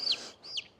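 A chicken gives two short, high clucks about half a second apart, close and fairly quiet, with no talk.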